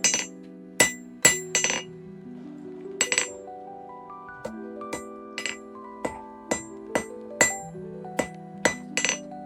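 A hammer strikes hot steel round bar on a forge in sharp ringing blows, some rapid, some spaced out, each leaving a bright lingering clang.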